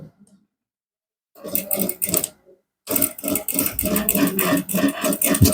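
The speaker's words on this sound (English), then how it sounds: "you gently start the stitching process" A sewing machine stitching trousers, starting with a short burst of rapid mechanical chattering, then a pause, then a longer steady run of fast rhythmic needle clatter, loud and close.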